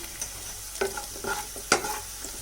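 Onions fry in a kadai, stirred with a utensil, giving brief scraping strokes and soft sizzle bursts close by in a short stretch with no talk.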